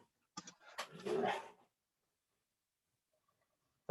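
A golden retriever gives a brief growl and huffing bark, one short burst lasting about a second, close by, followed by near silence apart from faint distant sounds.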